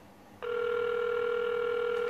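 Phone call ringback tone heard over a speakerphone, starting abruptly and holding as a steady electronic tone, clear and moderately loud with no voices.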